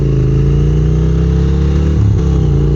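A 2022 Triumph Speed Twin parallel-twin motorcycle pulling hard in second gear at around 4,500 rpm, a loud, steady, throbbing engine drone that rises in pitch with a brief dip partway through.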